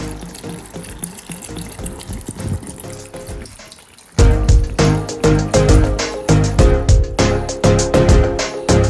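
A glass jar is topped up with liquid over vegetables and fruit for fire cider, with a steady pour that stops briefly, then louder gurgling splashes as it fills to the brim.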